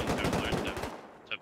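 An MP submachine gun in the game Rust rattles off a rapid, loud burst of gunfire for about a second, then cuts out, leaving a faint trailing sound.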